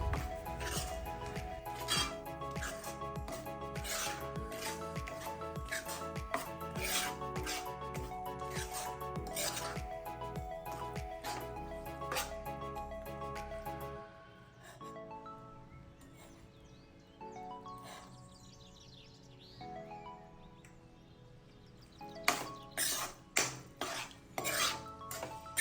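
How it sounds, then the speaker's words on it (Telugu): Cauliflower pieces are stirred into pickle masala with a metal spoon in a pan, giving repeated clinks and scrapes against the vessel over a steady hum, with softer wet mixing sounds in the middle stretch. "ఇప్పుడు ఇలా ముక్కలు వేసి చక్కగా మిక్స్ చేసేసేయండి."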